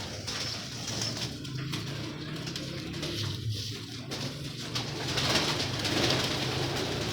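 Several pigeons coo steadily at close range, a dense, continuous layer of soft throaty calls with faint fluttering and patter, no talk over them.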